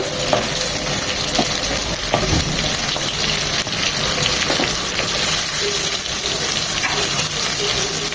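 Potato and green papaya pieces frying in a pan of hot oil for a Bengali shukto, making a steady, close sizzle with occasional light stirring clinks and no talk.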